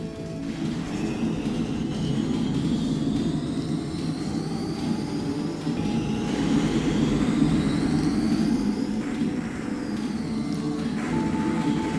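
Jet aircraft roar from the arcade flight game AfterBurner, a steady dense engine drone with rising whistling tones sweeping over it, loud and continuous with no voices.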